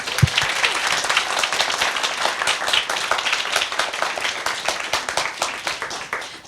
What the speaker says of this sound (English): Big round of applause for Katie.